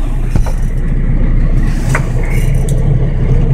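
A work truck engine runs close and loud with a deep, steady rumble that swells slightly as it revs, with a light scrape or knock near the start.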